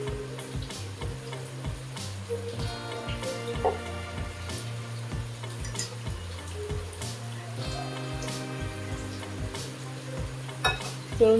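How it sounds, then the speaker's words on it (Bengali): Pangas fish frying in a kadai gives a continuous sizzle dotted with small ticking pops, under a steady low background hum. "এখানে আবার মাছ ভাজা হচ্ছে। মাছটা কড়াই দিয়ে দিয়েছি।"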